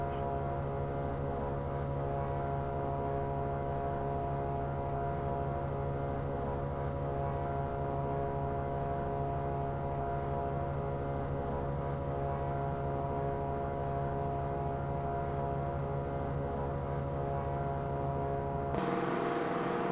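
Steady, loud drone of B-17 bomber engines in flight in a video game near Duxford, a continuous propeller hum holding alone throughout before a brief change at the very end.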